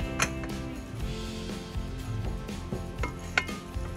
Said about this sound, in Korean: 살짝 열이 오르면 무와 말린 장어를 넣어주세요.